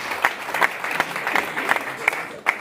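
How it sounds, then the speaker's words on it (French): Press conference audience applauding, steady indoor clapping with a few sharper, louder claps standing out, close and continuous. "Merci beaucoup, on peut l'applaudir."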